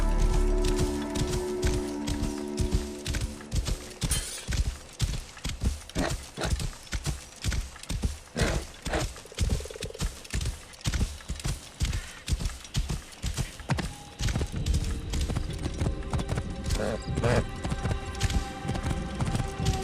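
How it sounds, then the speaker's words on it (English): Hooves clop in a fast, steady galloping rhythm as a horse runs in the video game Assassin's Creed Origins, loud and close throughout with a light musical background. "A bit quicker by horse."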